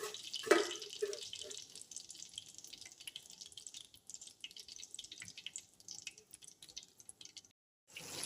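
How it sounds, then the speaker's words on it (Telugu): Pieces of kingfish (vanjaram) deep-frying a second time in hot oil for a catering-style fish fry, a steady close crackling sizzle with a sharp splash near the start, cutting off just before the end. "ఇలా రెండోసారి వేయించాలండి."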